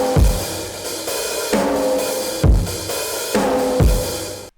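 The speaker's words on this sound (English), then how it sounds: "I added this kick and snare, which are more digital sounding" Blended acoustic and digital kick and snare drums in an electronic remix, a punchy alternating kick-snare pattern repeating four times, loud and clean with no voices.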